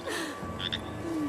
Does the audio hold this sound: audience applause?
no